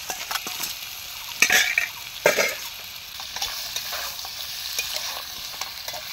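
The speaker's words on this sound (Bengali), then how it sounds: "এবার আমরা আগের থেকে ভেজে রাখা আলু আর বড়িটা দিয়ে দিলাম।" Already-fried potato, bori and eggplant are tossed into a hot pan, with loud scraping stirs and a steady close sizzle of frying throughout, including a couple of sharper bursts and no talking.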